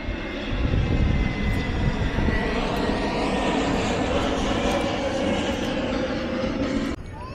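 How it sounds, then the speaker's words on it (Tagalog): A fixed-wing airplane passing overhead at a cemetery, its engine roar steady and fairly loud for several seconds before cutting off abruptly near the end, with faint voices beneath. "dumadaan yung airplane"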